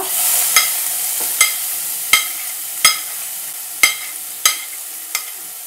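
Cumin, curry leaves and finely chopped onion sizzling in hot oil in a pan for a special misal, a steady high hiss broken by sharp crackles and spatters at regular intervals.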